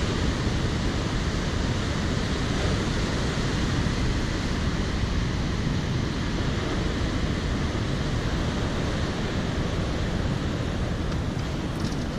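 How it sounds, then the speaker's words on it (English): Big ocean waves break against the La Jolla bluffs in a steady, dense roar of surf, loud and continuous, with wind rushing over the microphone. "These waves are quite big"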